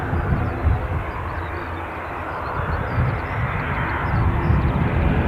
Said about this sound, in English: an Airbus A321 on its way back to London Heathrow